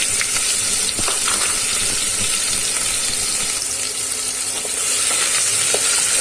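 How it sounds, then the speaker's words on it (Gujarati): Ginger, garlic and chili paste fry in a pan for a sweet potato curry, producing a loud, steady sizzle with occasional light stirring clicks over the whole stretch, no one speaking. "ત્યાર પછી મેં આદુ લસણ અને મરચું લીધું છે એમ પેસ્ટ ઉમેરી દેશું"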